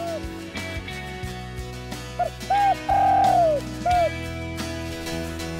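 A spotted dove cooing in short, soft repeated phrases over a steady background hum.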